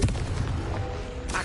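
A Confringo fire blast spell goes off in Hogwarts Legacy, a continuous booming roar that holds steady for its brief length and swells again at the end, close and fairly loud.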